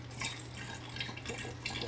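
Homemade garlic chive vinegar pours into a bottle with a steady close trickle and light dripping, faint background hum beneath, no talking.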